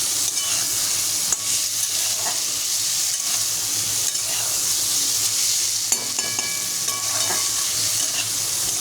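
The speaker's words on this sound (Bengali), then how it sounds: "এটা এর সাথেই ভাজা হয়ে যাবে।" Black cumin and spices frying in hot oil for an egg curry while being stirred in a pan: a continuous close sizzle with scraping stirring strokes throughout, and no talking.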